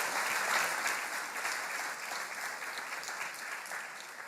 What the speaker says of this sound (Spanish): Le damos palmas al Señor por Jesucristo.